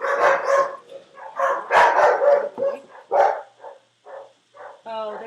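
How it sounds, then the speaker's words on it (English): Several dogs indoors bark and yip in a string of short overlapping calls with some whimpering, fairly close and loud, and a voice can be heard among them. "Oh, the dogs. And those are the dogs. They have a lot to say."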